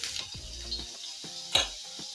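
Butter and a spoonful of peanut oil heat in a hot pan for spinach soup, giving a faint steady sizzle broken by a few short metallic clinks and one sharper knock.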